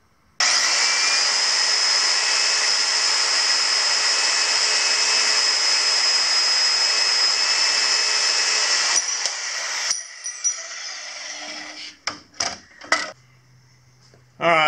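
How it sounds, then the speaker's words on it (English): Angle grinder with a flap wheel grinding the inner bore of a steel sprocket for a Timberking 1400 sawmill, giving a steady, loud, high whine for about nine seconds, then winding down with a few clinks and scrapes. "So I took a flapper wheel on a grinder and took out the ID a little bit"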